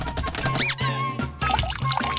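Cartoon water pouring into a glass, a bright squeaky rising gurgle over background music, brief and close, with short splashy fills.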